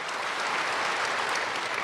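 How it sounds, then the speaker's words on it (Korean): A church congregation applauds at an early-morning prayer service, a dense, steady wash of many hands clapping at full volume throughout with no speech over it. "하나님께 영광의 박수."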